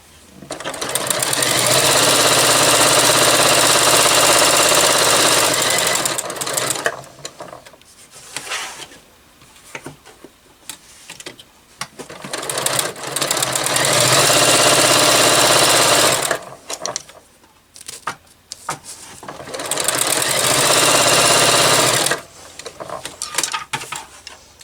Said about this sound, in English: I'll just sew a little bit so you can hear it sewing.